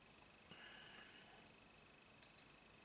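A battery charger gives two short, faint electronic beeps alone, spaced well apart over quiet background hiss.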